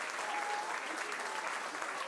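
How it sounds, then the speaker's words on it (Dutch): An audience at a performance gives the performers a big round of applause, a dense, steady wash of clapping with a voice faintly audible beneath. "Geef ze nog een groot applaus."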